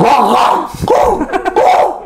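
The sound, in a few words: person imitating a dog barking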